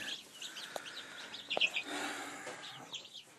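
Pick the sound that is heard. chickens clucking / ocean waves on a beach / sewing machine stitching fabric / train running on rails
chickens clucking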